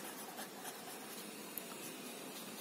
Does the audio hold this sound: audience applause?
no